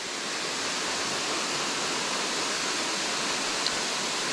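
Steady broadband roar of a waterfall on Piney Creek, constant and close, filling the whole clip with no voices.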